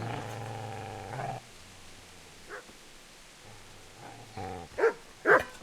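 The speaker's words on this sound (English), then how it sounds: "Get away, you mutt!" A dog in Kingdom Come: Deliverance gives a long low growl, then a few loud, close, harsh barks in quick succession at the end, with no talking over it.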